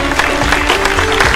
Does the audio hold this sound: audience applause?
yes